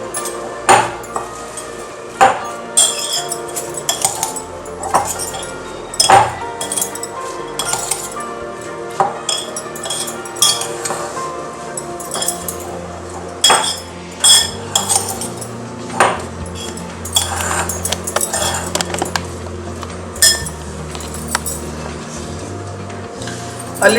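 Chopped garlic and ginger are mixed in a bowl, with a spoon scraping and clinking against the dish in irregular close knocks and taps throughout.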